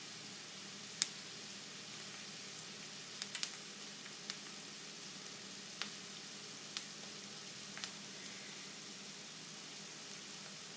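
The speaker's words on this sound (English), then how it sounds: "If it's not sizzling enough, then bring the heat up a little bit" Pork pieces frying in a pan on a stovetop, a quiet, steady hiss of sizzling fat with a few sharp pops and crackles scattered through, close and faint, with no voices.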